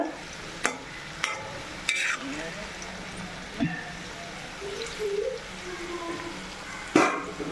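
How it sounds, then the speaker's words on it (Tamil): Pickle ingredients sautéing in a pan, with steady stirring clatter and light sizzle, sharp spoon scrapes at intervals and a louder knock near the end, close and moderately loud. "இன்னும் கொஞ்சம் நல்லா வதங்கி வரட்டும் கொஞ்சம் வேகட்டும்"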